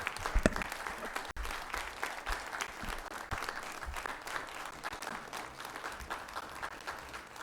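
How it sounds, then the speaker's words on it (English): A public-meeting audience breaks into sustained applause after a unanimous council vote, dense steady clapping from a crowd filling the room, with faint voices underneath. "Yes, now you may applaud."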